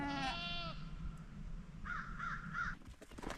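Two Kiko goats bleat close by, one after the other, followed by a short series of wavering calls, with rustling in the background.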